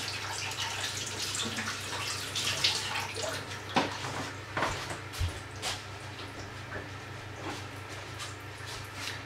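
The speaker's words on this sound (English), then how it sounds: "I'll just wash my hands up" Hands being washed under a running kitchen tap, a steady close water rush with splashes and small knocks against the sink.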